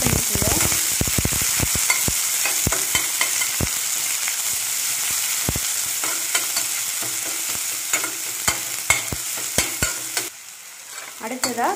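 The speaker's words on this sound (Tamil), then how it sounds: "கடுகு நல்லா பொரிஞ்ச பிறகு கடலைப்பருப்பு, உளுத்தம் பருப்பு, கட் பண்ணி வச்சிருக்க சின்ன வெங்காயம் இது எல்லாத்தையும் ஆட் பண்ணி நல்லா ஃப்ரை பண்ணிக்கோங்க." Mustard seeds, chana and urad dal and shallots frying in a pan, loud close sizzling with sharp crackling pops and repeated scraping strokes of a spoon, quieting slightly near the end.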